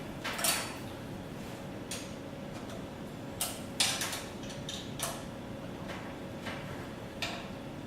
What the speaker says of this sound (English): You begin by removing the 6 nuts at the foot.